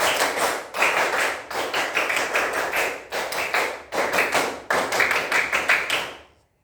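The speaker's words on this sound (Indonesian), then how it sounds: "Tepuk pramuka 2 kali" Schoolchildren performing the scout clap pattern twice in a classroom, rhythmic bursts of group clapping in repeated phrases separated by short pauses, ending cleanly.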